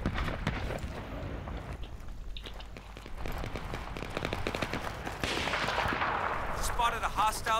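Gunfire in the video game Battlefield 3 during a Rush match on the Epicenter map, rapid shots and bursts crackling over game noise, with a squad chatting over it.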